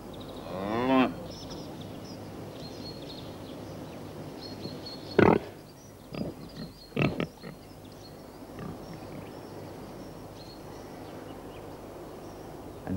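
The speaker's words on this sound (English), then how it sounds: "Still got cows." Cows on a small farm holding low, drawn-out moos, one early, then a louder bellow around the middle followed by a couple of shorter calls, fairly close against a quiet outdoor background with no voices.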